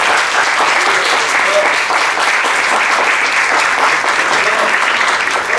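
Steady, loud audience applause follows a conference lecture on Egypt and Modernism in Cartagena, a dense uniform wash of many hands clapping that holds without a break.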